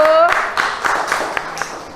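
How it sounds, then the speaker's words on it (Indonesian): A class of schoolchildren applauds group 2 in a classroom, a burst of scattered hand claps mixed with children's chatter and a teacher's voice, fairly close and lively. "anak-anak, kita kasih tepuk tangan untuk kelompok 2"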